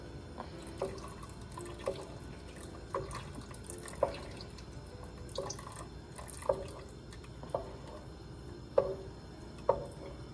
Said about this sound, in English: And then we're going to keep stirring for about 30 seconds.